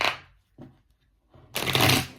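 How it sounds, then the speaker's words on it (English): Tarot cards being shuffled by hand: a short riffle, a faint brief rustle, then a longer, louder riffling burst, close by in a quiet room. "maybe I need to shuffle a"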